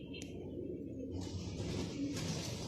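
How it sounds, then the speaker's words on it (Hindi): A Tapori-breed pigeon held in the hand gives soft, low, faint cooing murmurs, with a quiet background. "तो ये मेरे हाथ में कबूतर"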